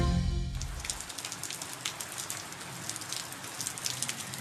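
Rain falls in Córdoba after five months of drought, a steady patter of drops on surfaces with scattered sharper taps, following a brief moment of other sound at the start.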